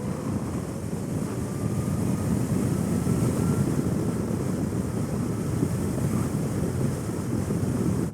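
Steady, loud rushing wind buffeting the rider's helmet on a 2021 Zero SR/F or SR/S electric motorcycle at speed, a continuous low roar with no engine sound and no talking.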